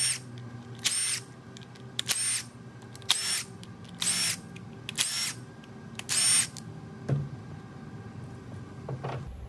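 Front cover coming off an LS engine oil pump, with about six short, sharp mechanical bursts at roughly one-second intervals, close by, followed by quieter handling noises.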